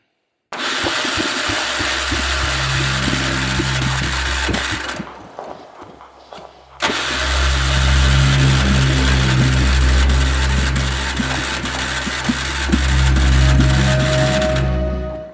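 A John Deere 140 garden tractor engine cranks and catches, running roughly and loud up close, dying down briefly around the middle before firing again and holding a rough, steady idle.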